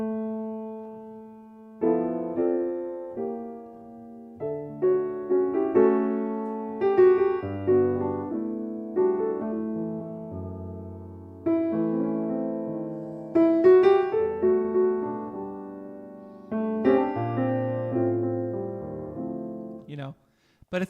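Solo jazz piano playing a bossa nova tune slowly as a ballad, with soft sustained chords and melody at close range and no talking.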